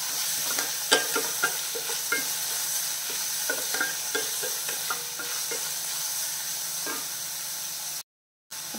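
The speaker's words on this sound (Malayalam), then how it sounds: "എല്ലാം കൂടെ നല്ല രീതിയിൽ വഴണ്ടു വെക്കണം." Onion and crushed shallots sizzle steadily in a hot pan, with a dense frying hiss and frequent close scrapes and knocks of a spatula stirring them, no talking.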